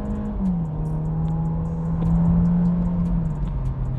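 A 2023 Peugeot 2008 Style with the 1.6 THP engine pulls away hard from a standstill, its engine note holding steady and then dipping as it shifts, loud and close with a continuous rumble.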